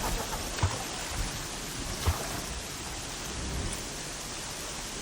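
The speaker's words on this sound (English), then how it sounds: "Rain's too loud to hear much." Steady rain falls in Horizon Zero Dawn, a dense, even hiss filling the clip, with a few faint low thumps and no voices.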